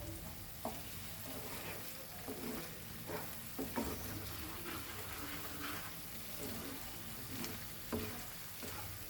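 Dry bombil fish frying in Goan recheado masala, a dense, continuous sizzle with occasional stirring knocks and scrapes at a moderate distance.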